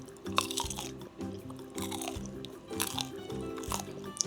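Crispy fried tofu is bitten and chewed up close, giving repeated loud crunches in an uneven rhythm with brief pauses between bites.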